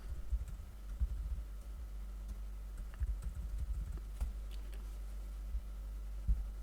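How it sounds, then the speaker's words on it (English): Someone types a password on a computer keyboard while setting up a MikroTik router, giving soft, irregular key clicks that are quiet and close against a steady low hum, with no voices. "here I'll be typing my password"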